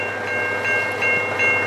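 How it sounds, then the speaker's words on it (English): A freight train approaches a level crossing on the Pyrenees Highway west of Elmhurst, Victoria, a faint, distant rumble with a steady tonal hum and soft periodic clicks. "it sounds like I can hear the freight train, so it's slowly going to come around the corner"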